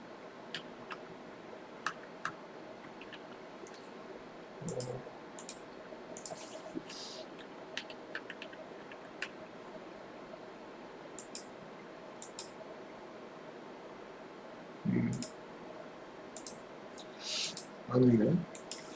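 Computer keyboard keys and mouse clicks sound in bursts while working in an Excel spreadsheet. Sparse, light ticks and taps come close by over a quiet hum, joined by occasional brief low thumps.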